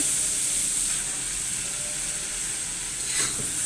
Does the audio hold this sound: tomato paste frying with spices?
yes